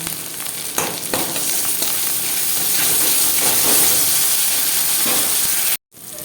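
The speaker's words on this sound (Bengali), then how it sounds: "সমস্ত মশলাই আমি ভেজে নিয়েছি।" Spices with green chili paste, salt and turmeric frying in hot oil, a loud continuous sizzle with a few stirring scrapes, close up, cutting out briefly near the end; no voices.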